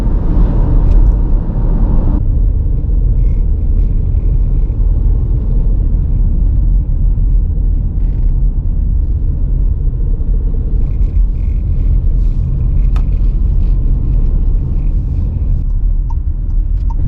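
A car climbs a road out of Playa Blanca toward the Ajache mountains and the village of Femés on Lanzarote, a steady low engine and road rumble filling the whole stretch, close and continuous with no talk.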